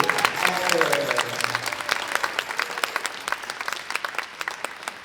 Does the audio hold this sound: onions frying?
no